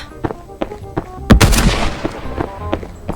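Gunfire in the co-op video game Fog of Life 2: sharp single shots at a rough, uneven pace, with one louder burst near the middle trailing into a rumbling decay, close and punchy.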